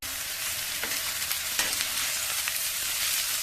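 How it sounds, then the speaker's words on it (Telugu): Soaked moong dal sizzles in a hot oil tempering with onion as a cauliflower curry is cooked, with an even, steady frying crackle and a few sharper pops and stirs. "ఈ నానబెట్టుకున్న పెసరపప్పును కూడా ఇప్పుడు నేను తాలింపులో వేసేస్తాను"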